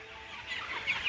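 A hen clucks softly and contentedly while being stroked by hand, a few faint close murmurs rising slightly toward the end.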